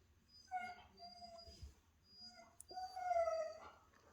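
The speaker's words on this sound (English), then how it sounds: "I apologize for the howling dog." A dog howls and whimpers indoors in two drawn-out, wavering bursts, near and fairly quiet, with no talking over it.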